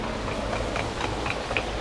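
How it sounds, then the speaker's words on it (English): Train station ambience carries a steady low rumble of rail traffic with faint clicks and scattered metallic sounds throughout, continuous and moderately loud with no clear talking. "Just arrived at the train station."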